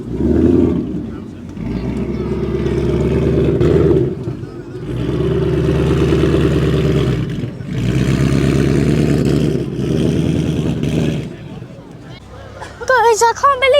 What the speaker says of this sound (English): This is a supercharged Mustang.